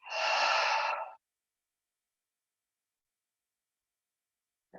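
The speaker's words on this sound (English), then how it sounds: "Take a nice full breath." A single full, audible exhale blown out through the mouth during a guided breathing exercise, lasting about a second and loud and close, followed by silence.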